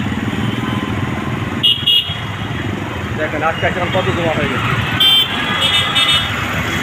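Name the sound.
motorbikes, auto-rickshaws and CNGs driving on footpath, horns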